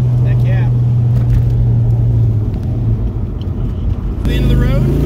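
A 1999 Ford Mustang with a 4.6 V8 and bolt-on upgrades rumbles loudly from inside the car on a test drive, a deep steady engine drone that surges as it accelerates near the end, with voices talking over it.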